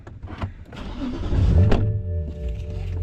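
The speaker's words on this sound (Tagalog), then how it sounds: "You're in the fast car now, Asher." A car engine runs steadily from inside the cabin, a low rumble that swells slightly as the vehicle pulls away, with brief clunks and no talking.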